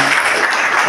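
An audience claps loudly in welcome at a public felicitation event, a thick, continuous wash of many hands close by.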